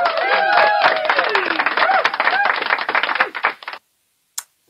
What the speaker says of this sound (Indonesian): Ya tepuk tangan dulu untuk kita semua.